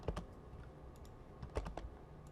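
Soft, close-up keystrokes on a computer keyboard, a few quick clicks in small bursts with short pauses between.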